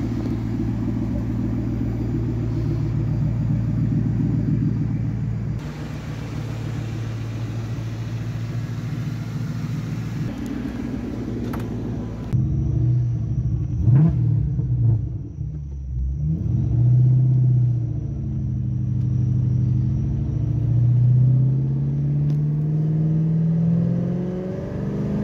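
A Ford Mustang Cobra V8 converted to E85 flex fuel idles steadily up close, a deep continuous rumble with a few throttle blips and rising revs in the second half.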